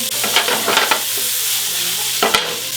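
Chopped onion drops into hot oil and sizzles loudly and steadily up close, with a couple of brief stirring scrapes and no voices.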